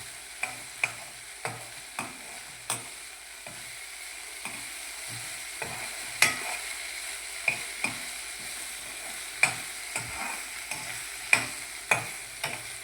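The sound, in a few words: tempering sizzling on low gas flame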